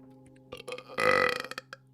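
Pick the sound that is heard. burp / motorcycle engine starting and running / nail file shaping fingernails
burp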